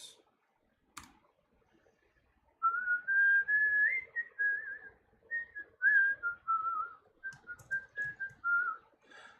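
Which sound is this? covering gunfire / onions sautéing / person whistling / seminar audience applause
person whistling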